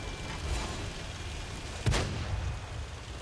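A tank cannon fires a shell, one sharp, heavy boom near the middle that rolls off in a low rumble, set against a steady outdoor background roar.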